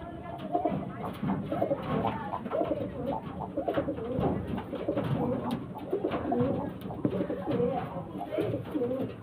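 Pigeons coo repeatedly and close by in a loft, soft rounded calls overlapping continuously throughout, with a person talking over them.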